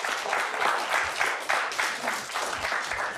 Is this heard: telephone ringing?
no